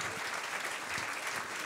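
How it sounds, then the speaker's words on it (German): Steady applause from a live audience at a premiere comedy show, dense and continuous clapping throughout with no voices standing out. "So, ja, klatscht ruhig, das ist okay."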